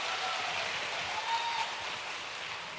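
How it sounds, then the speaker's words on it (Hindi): Audience applause in a hall at a good-governance gathering in Bhopal, a steady broadband wash of clapping held evenly for about three seconds with no talk over it. "इस पे ताली जरा जोर से बजाओ।"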